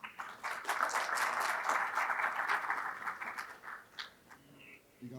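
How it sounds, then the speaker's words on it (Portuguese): Applause from the audience at a solar energy conference, a moderately distant burst of clapping that swells, holds for a few seconds, then thins out into scattered claps. "Uma salva de palmas aqui"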